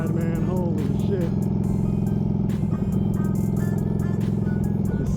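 A Harley-Davidson Sportster 48 engine drones steadily and loudly while being ridden, a dense low rumble throughout, with brief sounds layered over the engine.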